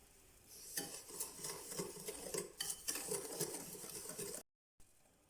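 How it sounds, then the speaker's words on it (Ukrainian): A wire whisk stirs milk, salt and corn starch in a bowl, producing quick, rhythmic scraping and light clinking against the sides, close and fairly quiet before a sudden cutoff. "перемішуємо вінчиком до однорідності"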